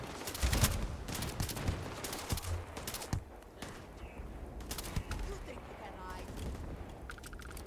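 Gunfire crackles in the sci-fi shooter Starfield, with dense bursts of shots early on that thin into sporadic reports. Someone talks over the combat, and there is some mechanical clatter.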